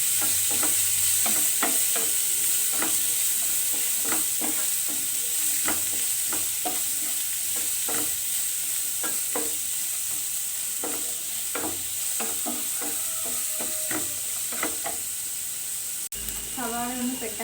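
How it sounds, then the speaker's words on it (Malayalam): Chopped onion fries in hot oil for dry fish masala, with a continuous close sizzle and hiss and regular scraping strokes as a spatula stirs the pan, ending in a brief different sound. "എണ്ണ ചൂടായിട്ടുണ്ട്. ഇതിലേക്ക് നമുക്ക് അരിഞ്ഞു വെച്ചിരിക്കുന്ന സവാള ആഡ് ചെയ്ത് കൊടുക്കാം. നന്നായിട്ടൊന്ന് മിക്സ് ചെയ്ത് കൊടുക്കുക."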